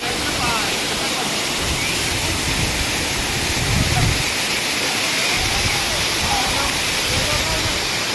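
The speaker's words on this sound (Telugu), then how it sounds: "వాటర్ ఫాల్స్ చూడండి ఎంత బాగున్నాయో" Erravaram waterfalls beside the Lambasingi ghat road roar loud and close, a dense unbroken rush of falling water, with voices partly buried beneath it.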